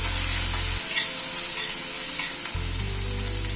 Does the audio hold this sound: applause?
no